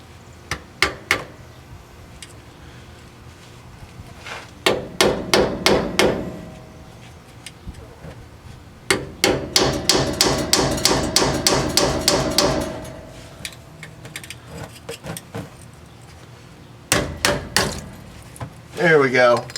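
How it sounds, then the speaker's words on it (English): A small hammer tapping a flat-bladed screwdriver to pry off a car differential cover: sharp metallic taps in quick bursts and a long rapid run near the middle, close and loud. "I just use a flat bladed screwdriver and a little hammer and just kind of tap it until it opens up."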